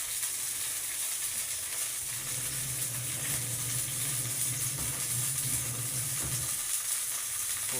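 Broth of squash and sweet potato boiling in a cooking pot, a steady bubbling sizzle that runs continuously and fairly loud throughout, with no talk over it.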